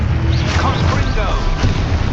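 A fiery explosive spell blasts in the game Hogwarts Legacy, giving a loud, rumbling boom with crackling debris that fills the short moment, over heavy low-end roar and voiced game sounds.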